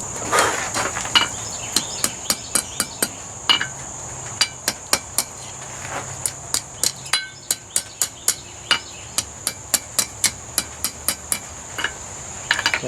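Repeated sharp metal hammer strikes ring out at a steady, fairly quick rhythm, close and loud over a constant high insect-like hum from the surroundings while things are made for a state fair.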